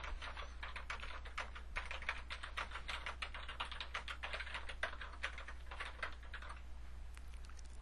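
Rapid, steady keystrokes on a computer keyboard while entering question text in a quiz-making program, clicking continuously for about seven seconds under a low steady hum, with no talking.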